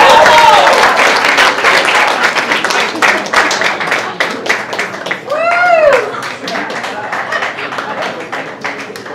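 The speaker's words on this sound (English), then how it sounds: "Some applause." Audience applause at a Birdland cast party in a New York jazz club, steady dense clapping through the whole stretch, loud and close, with a whistle or voice cutting in briefly midway.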